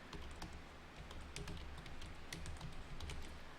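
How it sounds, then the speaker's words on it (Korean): Backspace key pressed repeatedly on a computer keyboard, giving a quick run of light, steady clicks up close under a faint room hum, with no talking. "백스페이스만 쭉 눌러서 지우시고,"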